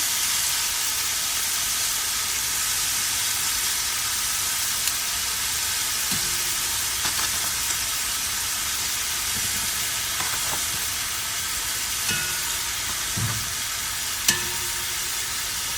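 Onions cooking in a pan on a stovetop at medium-high heat for Cuban grilled chicken give a steady, close, moderately loud sizzle and hiss, broken by a few faint scrapes and taps of stirring.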